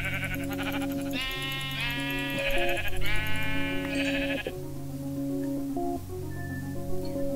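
Sheep in the video game Minecraft bleat in a few quick wavering cries close by, over steady game music, then fall quiet.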